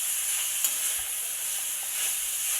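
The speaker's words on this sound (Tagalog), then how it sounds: "Haluin." Adobong sitaw with leftover fried catfish (pritong hito) and eggplant sizzles steadily in a pan as it is stirred, a continuous close hiss with a faint scrape or two.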